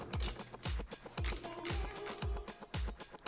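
A screwdriver turns screws to mount a Samsung 870 EVO SSD in a PC, giving a rhythmic series of close ratcheting clicks and scraping turns, about seven strokes in a few seconds.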